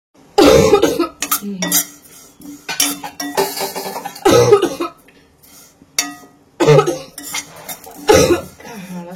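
Several sharp coughs come in bursts over about nine seconds, fairly close and loud, with faint kitchen clatter of dishes and cutlery between them during Diwali preparations at home.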